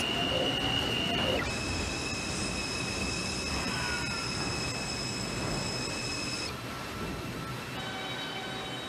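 Simulated R142 subway train on the 2 line in the Bronx, running steadily with loud broadband rumble, whining motor tones and faint wheel squeal throughout, with no talking.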